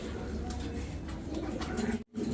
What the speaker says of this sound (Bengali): এখানে এক জোড়া শেডের লক্ষা কবুতর